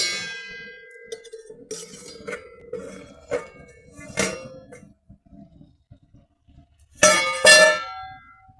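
A metal lid comes off a cooking pot of loti fish (Bombay duck) chorchori, with a few light clinks and scrapes followed by a loud, ringing clang near the end.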